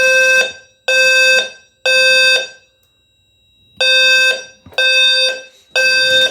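A loud electronic fire alarm blares in repeated long tones with short gaps, one longer pause midway, slightly rattly and harsh, the unit shaking its back box during a fire alarm system test.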